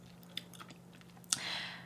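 A crunchy Thai snack with sesame seeds and makrut lime leaves is chewed up close, giving a few quiet crisp crunches and one sharper bite near the end.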